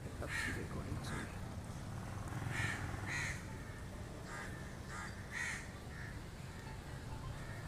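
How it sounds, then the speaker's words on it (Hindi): A crow caws repeatedly, about eight harsh calls spaced out at moderate distance, over a steady hiss of summer rain, with no voices. "कोई कौवा देख के काँ काँ कर रहा है"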